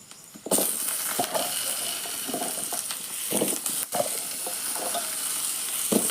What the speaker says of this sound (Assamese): আলুকে ভাজিবলৈ লৈছোঁ